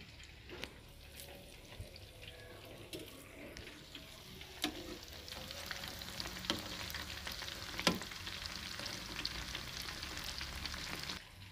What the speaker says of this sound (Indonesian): Saya sedang menggoreng tofu